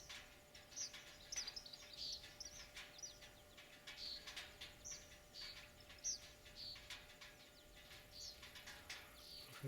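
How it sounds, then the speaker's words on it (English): Repeated short, bright bee-eater calls chirp at intervals over a faint steady background hum, moderately distant and fairly quiet. "It's some kind of bee eater."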